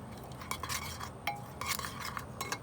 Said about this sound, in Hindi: इसमें मैं आधी चम्मच काली मिर्च और थोड़ा सा नमक, इसको अच्छी तरह मिक्स कर लेंगे।